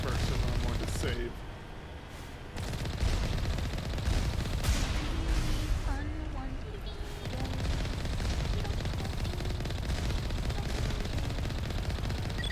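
Rapid gunfire from Mass Effect turrets being destroyed, steady bursts running throughout alongside game explosions and effects, with a person talking over the action.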